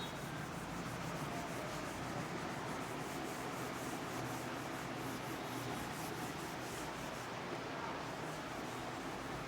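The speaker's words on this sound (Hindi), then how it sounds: "तो इसको मैं रब कर दे रहा हूँ" A board eraser rubs chalk or marker writing off a classroom board in a long, continuous scrubbing stroke pattern, dense and close, with no talking over it.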